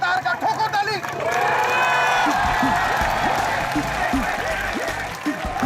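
A studio audience at a television comedy show breaks into loud, sustained applause and cheering that swells over the crowd right after a voice at the start and carries on to the end.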